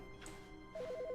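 Telephone ringing in a video game, a short electronic trill of rapid alternating beeps that starts partway through, faint and alone after a soft background hum.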